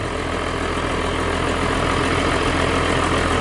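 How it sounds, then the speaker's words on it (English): Steady idle of a BMW E46 M3 fitted with an aftermarket flywheel, a continuous close engine drone with a faint rhythmic rattle pulsing through it, loud and unbroken with no talking. "Aftermarket flywheels, they tend to have sound to them afterwards. If you can hear this, this is not a clutch chatter."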